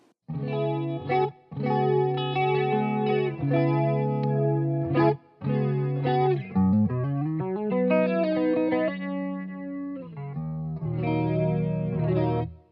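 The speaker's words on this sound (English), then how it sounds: "I may pop in a little bit of my analog delay just because it sounds nice with the chorus." Guitar played through a Source Audio Gemini Chorus pedal with a soft analog delay, shimmering and slightly distorted chords and melodic lines with brief pauses between phrases.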